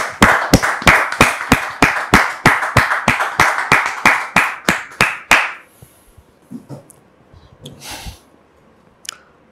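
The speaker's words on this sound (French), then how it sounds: "Recevons maintenant le frère Philippe sous vos applaudissements." An audience applauds in a rhythmic unison beat for about five seconds, the claps sharp and evenly spaced, then breaks into scattered claps and faint room noise as the applause dies away.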